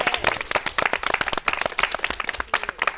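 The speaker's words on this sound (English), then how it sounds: "do we want to end with a big cheer?" An audience at a disability employment event claps and cheers, a close, lively patter of individual hand claps with scattered whoops, fairly loud and sustained.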